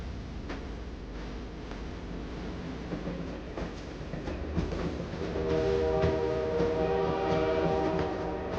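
The Canadian passenger train runs west out of the Rockies across the rolling highlands of central British Columbia, giving a steady rumble and rattle of the cars, with a sustained tonal hum rising in the second half and no talk.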